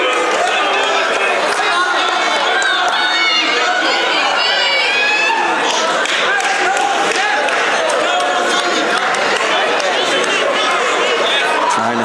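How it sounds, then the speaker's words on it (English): A college wrestling crowd at a Shorter vs. Montevallo match cheers for wrestler Willie Cox, a loud, steady wash of chatter and shouts throughout, with voices talking mixed in. "I hear some cheering for him"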